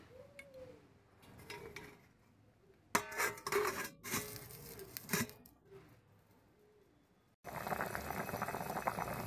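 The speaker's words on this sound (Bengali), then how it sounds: "ঝোলে জাল উঠে গিয়েছে" Fish curry broth with water added comes up to a boil in a covered pot, a bubbling simmer mixed with clattering of pots and a utensil, ending in a louder, steady rushing boil.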